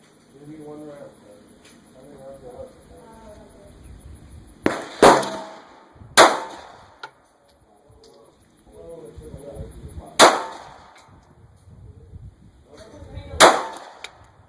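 Five sharp handgun shots ring out during a shooting drill, spaced unevenly across the clip with pauses between them, loud and close, with people talking quietly before and between the shots.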